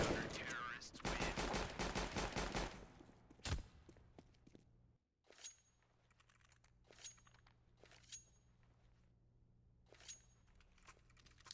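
Desert Eagle shots in Counter-Strike on the Mirage map, several sharp single reports spaced apart over faint game ambience, preceded by a louder burst of rapid gunfire.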